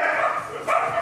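A dog barks in a short burst, a sharp yip or two, moderately close and brief.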